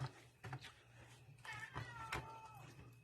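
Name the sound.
cat meowing in the background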